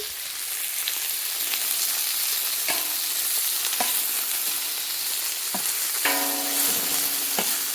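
Meat browns in a hot pan with West Asian spices such as Aleppo pepper, salt and cumin, giving a loud, continuous sizzle broken by scraping stirs and clinks, with no talking.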